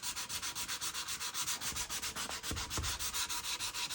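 Steady, rapid back-and-forth strokes of 150 grit sandpaper on a new Collins axe handle, stripping off shellac, close up and evenly rhythmic with no talking.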